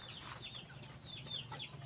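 Rhode Island Red hens clucking on a farm: soft, quiet clucks and short rising chirps repeat in an irregular chatter over a low steady background hum.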